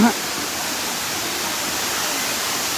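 Waterfall, a loud, steady broadband rush of falling water, close and continuous for the whole short stretch.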